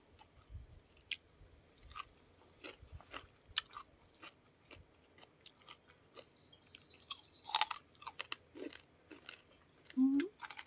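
Crunchy chewing on fried pork rinds eaten after spicy som tam, close and intermittent with sharp crisp bites scattered across the stretch, a louder crunch burst near the end, and no talking.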